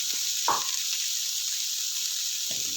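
Beef browns in a pan under a steady, soft sizzle. A couple of brief scrapes from a utensil stand out now and then, and there is no talking.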